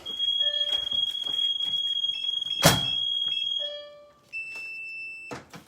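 A shrill electronic security alarm beeps on and on at close range, broken by a sharp thump, then continues in a slightly different tone.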